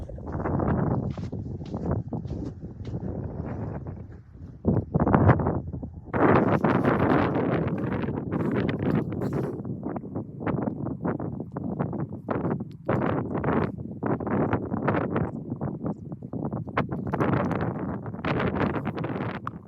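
Strong wind over a field of winter wheat seedlings buffets the microphone in loud, continuous gusts with rumbling low roar and occasional harsh bursts, no voices.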